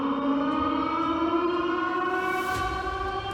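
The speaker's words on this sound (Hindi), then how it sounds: "तेज सायरन बजने लग गया" A loud alarm siren wails steadily and continuously in a horror podcast scene, its stacked tones holding level throughout, with no voices over it.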